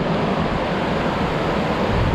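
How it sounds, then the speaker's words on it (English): Fast-moving river water rushing out of the Cascade Mountains in the foothills, a steady, loud broadband roar of churning current that fills the whole stretch without a break, close by and alone with no talk. "it sure is some fast-moving water coming out of those Cascade Mountains"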